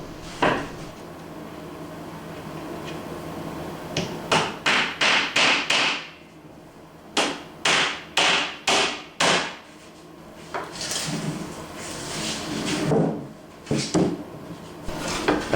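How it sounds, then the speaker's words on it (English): Hammer driving 2-inch nails into a plywood chicken feeder with glue: bursts of sharp, ringing blows in quick rhythmic runs of four or five, separated by quieter shuffling and handling noise, close and loud. "Apply glue and nail using 2-inch nails."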